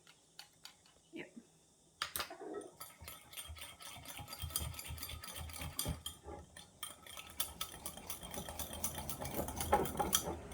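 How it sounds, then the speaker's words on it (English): A spoon stirring and mixing grilled eggplant ingredients in a bowl, rapid clinking and scraping strokes that grow busier and louder, with quiet voices in the background. "Okay, then mix it all together."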